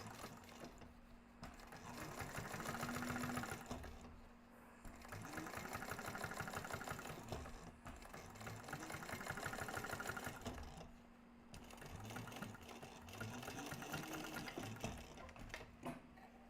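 Sewing machine top stitching a crossbody bag panel in four sustained runs of a few seconds each, separated by brief pauses. Each run is a close, rhythmic mechanical whir with needle knocking, steady and fairly quiet, and no talking.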